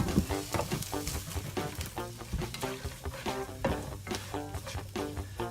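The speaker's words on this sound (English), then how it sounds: "Let's put a little oil in there too" Olive oil sizzling in a pan with softened vegetables for a white turkey chili, a close, crackling fry broken by repeated scraping and stirring knocks against the pan.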